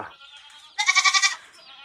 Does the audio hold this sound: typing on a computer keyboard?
no